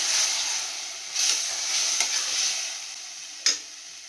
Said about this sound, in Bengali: এবারে আমি এটাকে ভালো করে কষাবো